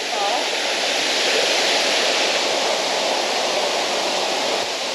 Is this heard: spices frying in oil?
no